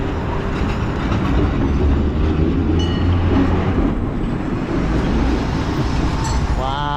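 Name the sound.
tram passing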